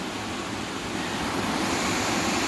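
Broadband rushing roar of a waterfall close by, steady and loud with no breaks, like heavy water pouring continuously over rock.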